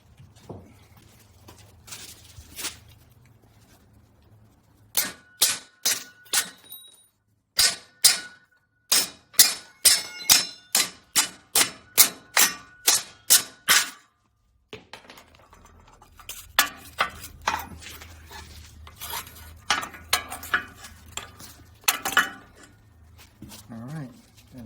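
Steel-on-steel hammer blows driving a roll pin into a Bobcat Bob-tach, loud sharp metallic strikes in fast regular bursts of about a dozen, with scraping and handling clatter before and after.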